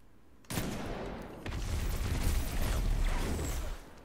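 Two grenades go off in Destiny 2 about a second apart. A sudden loud blast is followed by a second, heavier rumbling burst that rolls on before fading.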